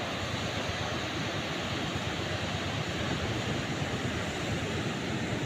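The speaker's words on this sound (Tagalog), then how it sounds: "Ito ang dagat ngayon. Araw-araw magandang dagat." Sea waves wash steadily on the shore, a broad, continuous rushing roar with no clear breaks between surges and no voices.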